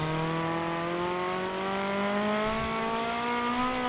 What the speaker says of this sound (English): we actually got to hear the open throttle of this car